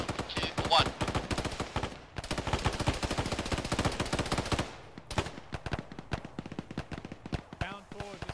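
Rapid automatic gunfire in the Arma military game during a ShackTac squad advance, a sustained close burst that pauses briefly and then resumes, with voices talking over it.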